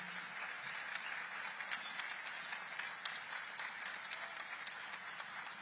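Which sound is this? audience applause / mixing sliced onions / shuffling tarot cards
audience applause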